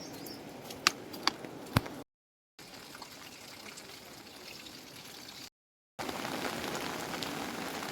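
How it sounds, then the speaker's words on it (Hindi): Heavy monsoon rain in the mountains pouring steadily onto surfaces, a dense hiss of drops with a few sharp clicks early on, broken by two short silent gaps. "इतनी बारिश पड़ रही है ना"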